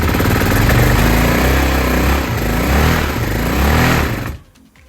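BMW F650 single-cylinder motorcycle with no fuel tank fitted, its engine catching and running at a loud, rough, close idle with a steady rhythmic thump, then cutting off abruptly near the end.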